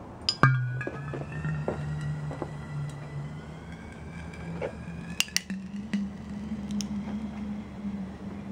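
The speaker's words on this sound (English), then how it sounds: "That's glass breaking." Glass cracks and breaks during a chlorine chemistry experiment, scattered sharp clinks and ticks over a low steady hum, fairly faint and near, with no voices.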